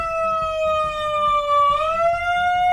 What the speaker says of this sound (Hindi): अब वो एक सायरन ले आया